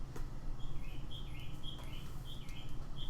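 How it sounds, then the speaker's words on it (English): Repeated high chirping bird calls ring out in a steady series over a low constant hum, fairly clear and loud against the background with no talking. "That is a loud bird."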